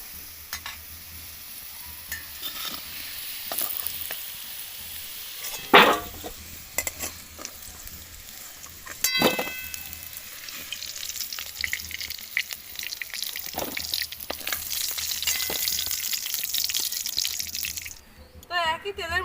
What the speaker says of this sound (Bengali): তো একই তেলের মধ্যে আমি এঁচোড়টাও একটু কষিয়ে নেব